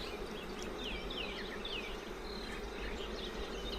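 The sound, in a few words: honey bees buzzing at an open beehive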